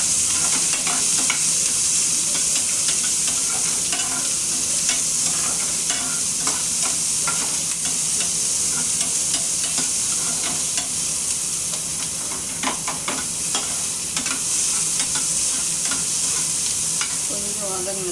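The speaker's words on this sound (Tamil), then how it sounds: "இப்போ வெங்காயம் போட்டு நல்லா வதக்கணும்." Onions sautéing in a hot pan give a steady, loud sizzle and crackle throughout, with frequent scraping and clinking as they are stirred. No one speaks.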